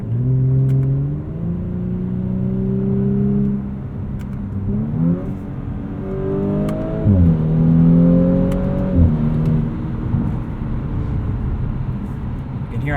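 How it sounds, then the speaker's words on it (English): A 2018 Audi S4 with a 3-liter turbo V6 and Tiptronic gearbox, heard from inside the cabin as the engine revs up through several gears in manual mode, loud and steady with rising pitch sweeps and brief dips at each shift. "This 3-liter turbo V6 sounds really good."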